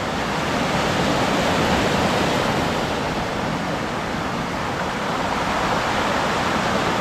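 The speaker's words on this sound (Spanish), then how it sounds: "Escuchen el ruido, cómo se mueven las piedras." Surf surging over a stony shore near San José del Cabo, Baja California Sur, a steady loud rushing roar with the grinding hiss of pebbles being dragged by the water.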